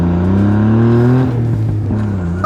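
A car engine revs hard and close, its pitch climbing steadily toward high RPM before shifting and settling into a rough, loud drone.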